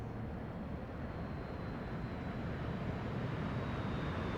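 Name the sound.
Spitfire Mk IX engine in the video game DCS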